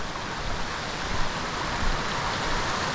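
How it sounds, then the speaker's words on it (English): Rushing mountain creek beside a forest hiking trail, a close, loud, steady broadband roar of churning water with no pauses. "it's a quite noisy, boisterous creek"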